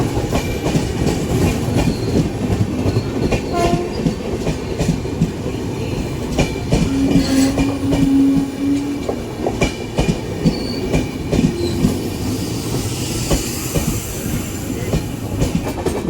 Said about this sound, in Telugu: మన ప్రక్క ప్లాట్ఫామ్లో ఒక రైలు వస్తుంది.